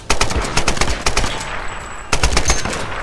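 Rapid bursts of automatic gunfire from a weapon in Tomb Raider, loud and close, in two dense volleys separated by a brief gap, with no talk over it.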